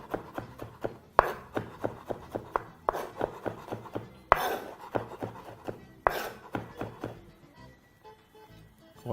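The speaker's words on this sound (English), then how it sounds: "So very simply proceed to chop those very, very roughly." A knife roughly chops vegetables on a board while preparing a Mediterranean egg bake strata. The chops come as quick, close, steady strikes in bursts, then thin out to a quieter scrape at the end.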